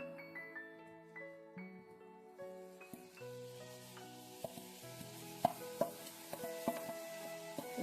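Roasted grated coconut tipped into a pan of hot sugar syrup for coconut burfi and stirred, giving soft scraping and clinking of a spoon against the pan with quiet sizzling, starting near-silent and growing busier.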